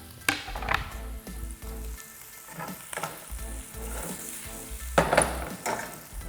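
Chicken livers go back into a pan of caramelized onions with the heat off. There is a soft sizzle with repeated spoon scrapes and knocks against the pan, close and moderately loud, and no talking.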